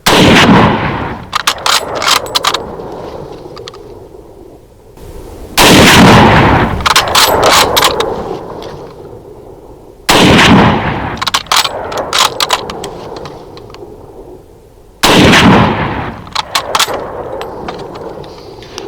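A Mosin Nagant M91/30 rifle fires four loud, sharp shots about five seconds apart, each blast trailing into a long rumbling echo that fades before the next round.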